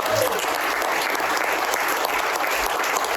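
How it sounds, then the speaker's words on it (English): A continuous round of audience applause at a digital-assets panel event with the Miami mayor, a steady dense clapping wash from a large crowd, with some voices faintly mixed in underneath. "If we get a round of applause from the mayor as well"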